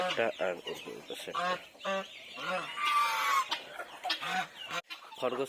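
Domestic geese honk and cluck repeatedly in short bursts, close by, with a person talking intermittently among the calls.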